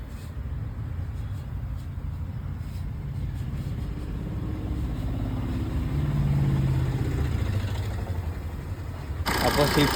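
Maruti Suzuki Swift engine running at a steady idle after timing chain replacement, a continuous low rumble up close with a slight rise in the middle and a brief change in the final second.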